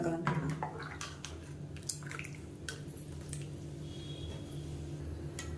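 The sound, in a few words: mixing coconut paste into sautéed onions in pot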